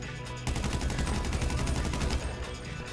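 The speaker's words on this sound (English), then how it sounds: "I just shot him from a long distance. With the non-long range weapon." Rapid gunfire from a weapon in the GTA video game, a dense burst of repeated shots that starts abruptly after a brief pause and keeps going loud and steady to the end.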